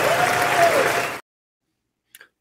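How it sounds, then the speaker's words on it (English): Loud, thick applause from lawmakers in the chamber of the US Congress, sustained for about a second before cutting off abruptly, followed by a faint brief sound. "Thunderous applause there"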